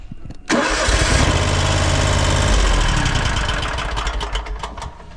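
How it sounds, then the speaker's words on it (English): Kawasaki FX850V 27-horsepower carbureted engine on a Hustler X One zero-turn mower with a 60-inch deck cranks briefly then fires and roars up to a loud, steady idle, close by. "Kawasaki FX 850V, 27 horsepower, carbureted"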